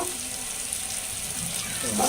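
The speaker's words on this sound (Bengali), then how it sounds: "এখন একটু পানি দিয়ে দিব" Water pours steadily into a cooking pan over sautéed onion and garlic, a continuous splashing hiss growing slightly louder at the end.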